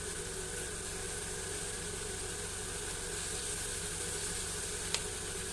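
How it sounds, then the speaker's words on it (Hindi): Chicken pieces fry in oil in a karahi, giving a steady, even sizzle that holds at an unchanging level with no talk. "इस तरीके से हम तमाम बोटियों को फ्राई कर लेंगे।"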